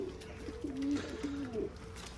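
A few short, throaty pigeon coos from a loft at feeding time, close and distinct, repeating in quick succession over a quiet background.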